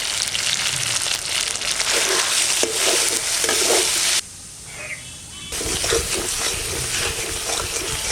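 Masala with salt, turmeric and chilli powder stir-fried in a pan for a vegetarian potato dum, giving a steady close sizzle with scraping stirs that pauses briefly midway, then resumes.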